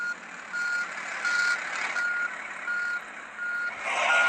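A simulated truck backs up in the Truckers of Europe 3 driving game, its reversing alarm beeping in a steady, regular rhythm over a constant engine drone, with no talk.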